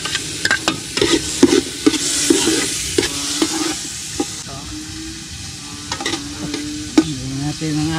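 Onion sizzles and hisses in a hot pan while a utensil scrapes and clacks against it in repeated stirs, close and steady, with faint background voices.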